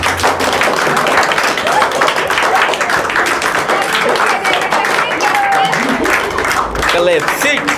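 A group of children claps during a chocolate pick-up game, the patter of many small hands overlapping and continuous beneath loud voices talking and calling out.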